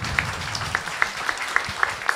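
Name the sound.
audience applause at a live talk show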